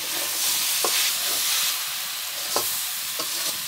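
Chopped coriander being stirred into cabbage and winter beans frying in a pan: a steady, close sizzle broken by a few sharp scrapes of the stirring utensil.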